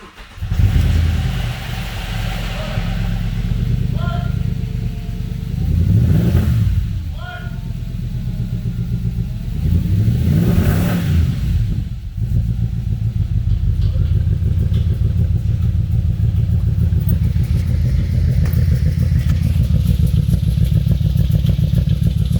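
A Ferrari Imola project car's engine cranks, catches and runs loudly close by, with a few revs rising and falling before settling into a steady rough idle; no clear talk over it.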